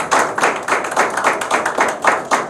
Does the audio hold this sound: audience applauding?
yes